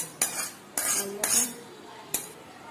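A metal spoon scraping and knocking against a pan while prawn malai curry is moved into a bowl, four sharp clinks at uneven intervals with softer scraping between them, close and fairly quiet.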